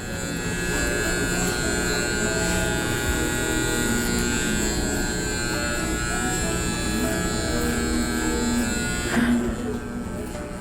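Electric hair clippers taper a man's hair at a barber's, giving a steady, close buzzing hum that runs continuously throughout with little variation.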